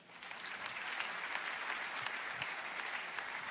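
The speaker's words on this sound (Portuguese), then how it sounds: "Pode aplaudir o Senhor." Steady congregational applause fills a church service, dense and sustained throughout without any talk over it.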